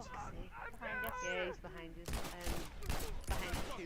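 Rapid 9mm pistol gunfire in The Last of Us, with sharp repeated shots mixed into game effects and a voice talking over them at close range.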